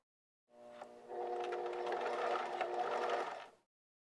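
A sewing machine runs a lock stitch across a pair of pants in one steady, continuous whir, close and fairly loud, starting after a short pause and stopping cleanly about three seconds later.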